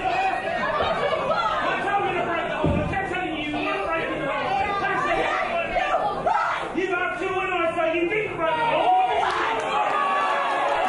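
A wrestling crowd at a women's match reacts with loud, steady chatter, shouts and rowdy cheering that fill the arena continuously, with voices layered over the din.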